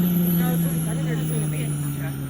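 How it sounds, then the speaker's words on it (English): A C-130 aircraft's auxiliary power unit running at DeKalb Peachtree airport gives a steady low drone and a thin high whine, with people talking over it. "what you heard is not the actual engine, but it's called the auxiliary power unit."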